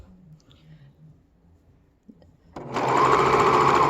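Sewing machine sewing a seam, starting after a quiet stretch of soft low talk and then whirring loud and steady up close.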